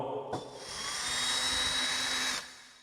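A lithium cordless screwdriver runs in screwdriver mode with a steady, close motor whine that starts with a click, holds for about two seconds and cuts off abruptly, with no speech.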